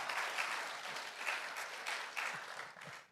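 An audience at an award ceremony gives steady applause, a dense, moderately quiet wash of clapping that swells slightly in places and carries on throughout.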